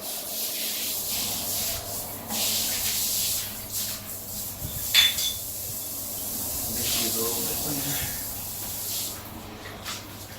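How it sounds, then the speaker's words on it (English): Water sprays and rinses steadily over a sink and work surfaces during cleaning with bleach. The hiss is continuous and close, with faint rubbing and handling noises throughout. "And then I just rinse everything thoroughly."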